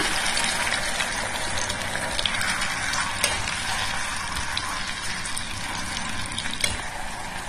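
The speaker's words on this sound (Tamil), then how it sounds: "இப்போ நம்ம மீதி இருக்கிற எண்ணெயை ஊற்றிக்கலாம்" Cooking oil poured into a pan on a stove for homemade hair oil, giving a steady, close gushing and sizzling hiss with a few faint clicks, no voices.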